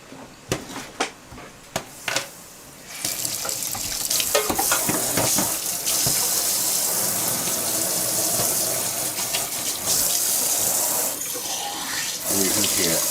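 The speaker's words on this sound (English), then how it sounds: "Now what I'm just going to do is I'm just going to wash this one up very quickly." Running tap water and clinking laboratory glassware being washed up in a sink, a few sharp knocks at first, then a steady close splashing stream that continues to the end.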